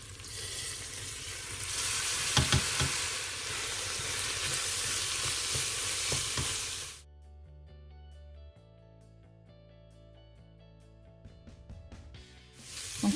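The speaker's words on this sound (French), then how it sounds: "on mélange bien le boulgour avec les poivrons et les oignons" Rinsed bulgur, peppers and onions sizzle and are stirred in a pan, a loud hiss with scraping strokes for about seven seconds before giving way to music.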